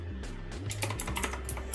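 Keys tapped on a computer keyboard while entering a disk-selection command during SD card formatting, a quick run of close, soft clicks over a low steady hum.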